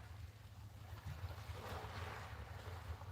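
A low, steady boat engine rumble drifts over open sea during a sea fishing trip, with wind buffeting the microphone and a faint wash of waves throughout.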